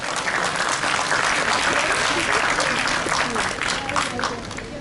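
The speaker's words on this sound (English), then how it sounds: "Can we please have a huge round of applause for them?" Sustained audience applause fills an indoor opening ceremony for a Model United Nations event, a dense steady wash of many hands clapping at close range for the whole stretch, with faint crowd murmur beneath.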